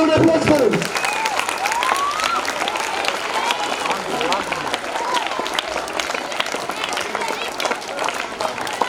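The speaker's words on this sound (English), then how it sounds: "give a big round of applause for him." Audience at a student award ceremony honouring JEE and medical entrance achievers breaks into sustained applause, steady dense clapping with some cheering that continues throughout, while a voice speaks briefly at the start.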